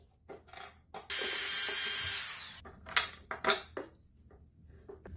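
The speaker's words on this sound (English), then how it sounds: "Drill holes to fit the screws." A power drill bursts into a short, high-pitched whirring run, drilling screw holes for a garage door opener bracket, surrounded by clunks and knocks of handling in a quiet workshop.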